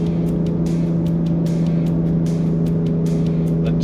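Turbocharged Ford Ranger Raptor engine droning steadily from inside the cab while towing, a constant low hum with faint ticks and rattles over the top.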